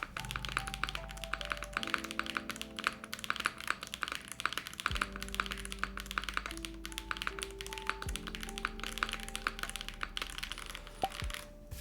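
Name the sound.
typing on Frost TKL mechanical keyboard with PBT keycaps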